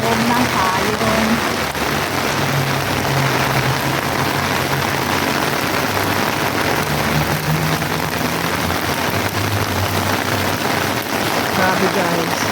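Heavy rain pours onto a transparent umbrella overhead, a dense, steady, close drumming hiss that never lets up across the whole stretch, with a voice speaking now and then beneath it.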